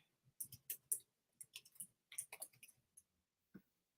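Quiet clicking of keys on a computer keyboard, typed in short irregular bursts with brief pauses and a final lone keystroke, close and soft with no talking.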